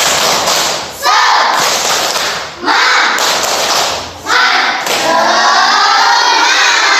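A group of children clap and shout a rhythmic clapping chant in a classroom, in bursts, with three short pauses before the final burst, loud and close.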